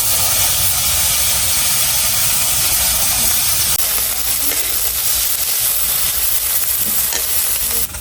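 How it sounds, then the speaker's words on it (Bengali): Small fish coated in turmeric and salt fry in hot oil, a steady close sizzle and hiss with occasional stirring, continuing without a break for the whole stretch. "প্রথম তো এই মাছগুলো ভাজা হয়েছিল পরে বাকিগুলো দিয়ে দিচ্ছি"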